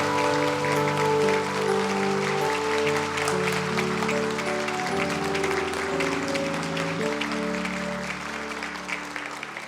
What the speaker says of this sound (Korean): 우리 한 번 더 축복의 박수 하겠습니다.